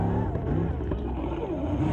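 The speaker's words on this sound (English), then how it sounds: "You can see just how these trucks really do accelerate." A 4x4 truck in the Suzuki Extreme off-road challenge accelerates with the throttle held to the floor, its engine droning and shifting pitch in a steady, fairly loud roar.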